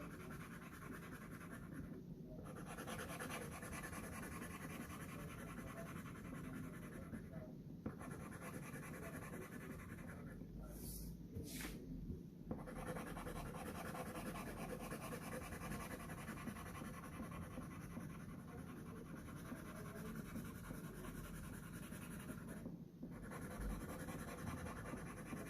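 Pencil scribbling back and forth over the back of a sheet of tracing paper, a steady continuous scratchy rasp lasting throughout, close and fairly even in loudness with a few brief pauses.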